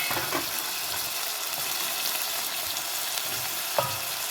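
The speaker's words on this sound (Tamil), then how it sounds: "இதையும் போட்டு எண்ணெயில் லைட்டாக அப்படியே வதங்க விடுவோம்." Dried fish and tomatoes frying in hot oil give a steady, dense sizzle throughout, close up, with an occasional soft clack of stirring and no voices.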